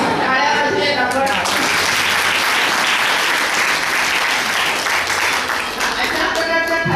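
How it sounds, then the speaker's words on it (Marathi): Sustained applause fills a village gram sabha in Baburdi Ghumat, Ahmednagar, as the gathered villagers clap together for a resolution celebrating the birth of girls, dense and steady throughout with a voice at the start and end. "टाळ्या वाजवूयात आपण."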